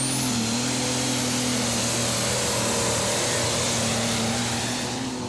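The Superstocks-class pulling tractor BE Combi Incredible Deer makes a loud, steady, high-pitched engine drone that holds constant through its run at the 2014 Eurocup tractor pull in Brande, Denmark.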